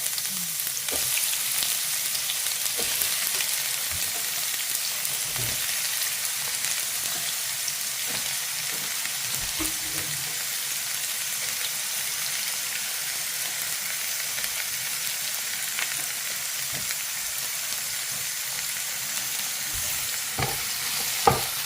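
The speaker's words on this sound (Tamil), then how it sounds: "எண்ணெய் ஊற்றிட்டால் காஞ்சிடுச்சு நேரடியாக வெங்காயத்தை போட்டுடலாம்" Onions fry in hot oil for prawn biryani with a continuous, dense sizzle that holds steady throughout, dotted with occasional soft clicks and scrapes from stirring, heard up close.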